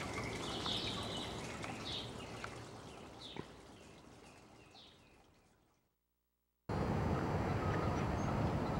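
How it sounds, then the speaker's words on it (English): Distant geese call several times at a slow, uneven pace over steady rushing water from waterfalls, then the sound abruptly drops out. "you can hear the geese mating in the background"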